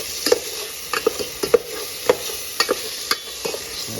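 Onion fries in a pan with a soft continuous sizzle, broken by regular scraping strokes of a utensil about twice a second, close and clear with no voices.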